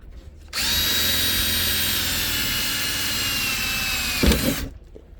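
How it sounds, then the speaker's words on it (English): A power drill drilling into an RV front door, a loud sustained high whine lasting several seconds at close range, ending in a brief clatter as the bit stops; no speech. "We don't want to drill through that at all."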